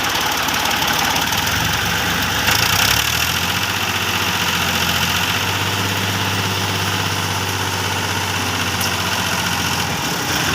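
A tractor engine runs steadily while the tractor is stuck in wet ground, giving a continuous loud rumbling drone with knocking texture and no speech.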